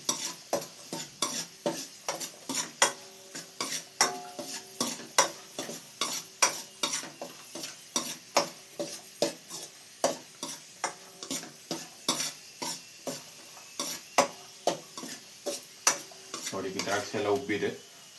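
Food fries on a low flame while a utensil stirs and scrapes the pan in a steady rhythm of sharp clicks over a soft sizzle, with a denser burst of sizzling near the end.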